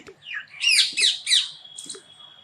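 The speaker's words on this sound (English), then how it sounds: "Yes, it is a little bird." A little bird chirps and squawks in a few quick bright bursts, close and clear, followed by a fainter trailing call.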